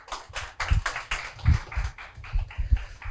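A small forum audience gives a company presenter a modest round of applause at a deep-tech innovation event, with uneven, fairly close claps in loose rhythmic bursts for about three seconds.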